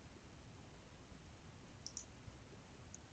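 A few faint, quick computer mouse clicks, a right-click among them, sound close up over a steady low background hiss in an otherwise quiet room.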